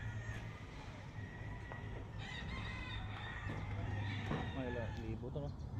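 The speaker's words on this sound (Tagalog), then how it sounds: "Puro manok yan hanggang doon, no?" Chickens clucking and a rooster crowing amid a busy farmyard din on a large chicken farm, with people talking over the steady background noise.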